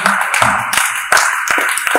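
Congregation clapping hands during a Moravian church morning service, with quick irregular claps and taps close by over a busy room murmur.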